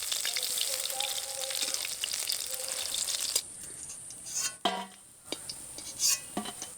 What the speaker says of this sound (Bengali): এবার উল্টে দিয়ে অন্য দিকটাও ভেজে নেব।